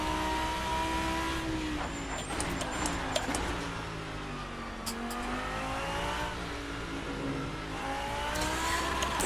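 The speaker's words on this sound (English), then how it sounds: "I keep revving it out to the rev limiter" A V10 race car in the Assetto Corsa sim, the GT-M Lanzo V10 Evo2, screams up through the revs and bounces off the rev limiter in repeated rising sweeps, loud and close with no talking.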